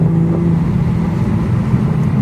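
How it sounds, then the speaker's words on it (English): Toyota Supra Final Edition with a twin scroll turbo engine and ZF8 automatic, a loud, steady low engine drone heard from inside the car. "it's a twin scroll turbo"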